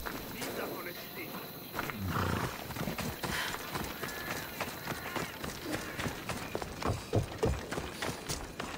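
Galloping horses in Assassin's Creed Odyssey, with rapid hoof clatter and rumbling movement running throughout alongside loud game ambience and animal roars, while a person talks over it.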